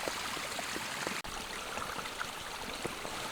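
A mountain stream flowing straight out of a scree field on New Zealand public land: a dense, steady rush of water close by, broken only by one brief click.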